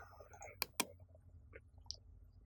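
A computer mouse used while drawing in SolidWorks CAD software gives two sharp, close clicks in quick succession, followed by a few faint, softer taps over a quiet background.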